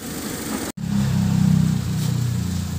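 Suzuki mini van engine running after a drive belt and tensioner pulley change, a steady close idle with a low pulsing hum, broken by a brief cut near the start before resuming evenly.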